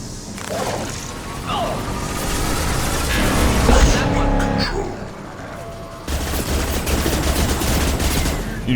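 Combat gunfire from Mass Effect 2, a steady stream of rapid weapon shots and crashing impacts, loud and close, with some voices in the mix.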